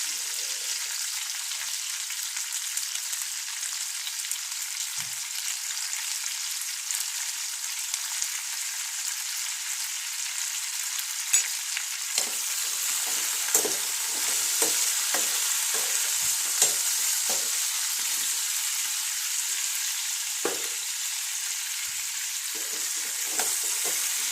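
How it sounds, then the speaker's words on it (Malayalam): Rose apple pickle mixture sautés in sesame oil in a pan, a steady, close hiss of frying that continues throughout, with occasional soft stirring taps. "ഒന്ന് വഴറ്റിയെടുക്കാം"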